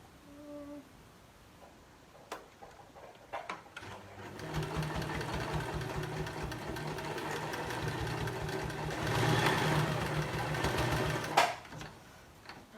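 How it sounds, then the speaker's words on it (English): A sewing machine stitches fabric for a hair scrunchie, starting after a few quiet clicks and then running in a steady, fast mechanical whirr that grows slightly louder before stopping abruptly near the end. "So again, folding it in, folding it over, and sewing."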